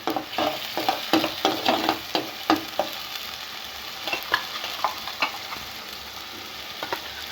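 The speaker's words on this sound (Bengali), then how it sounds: "কষা মাংসটা কষাচ্ছি" Kosha mangsho, meat with spices, is stir-fried in a pan alongside pre-fried potatoes, with a soft frying sizzle broken by repeated scraping and stirring strokes, busier early and sparser later.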